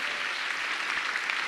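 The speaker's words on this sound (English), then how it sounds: "Clap your hands for Jesus." A church congregation claps their hands together in steady, dense applause that fills the short moment at an even, loud level.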